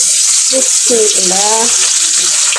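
Food sizzles steadily in hot oil in a home kitchen, a constant bright hiss throughout, with faint voices under it.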